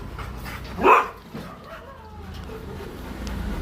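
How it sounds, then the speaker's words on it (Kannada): A hunting dog gives a single sharp bark close by, followed by quieter whimpering sounds against faint outdoor background noise. "ಬೇಟೆ ನಾಯಿ"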